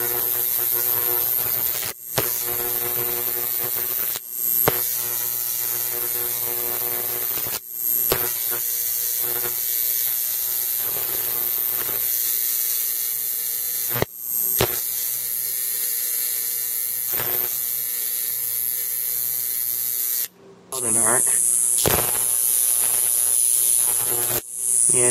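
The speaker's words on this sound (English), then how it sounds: "let's show you how hot the arcs can get" High-voltage arcs from a 555-driven flyback transformer make a loud, steady electrical buzz that drops out in brief gaps and restarts several times.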